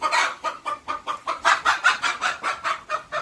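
Village chickens, hens and a rooster, clucking loudly and close in a quick repeated rhythm, each cluck a sharp burst in a steady run of calls without any talking.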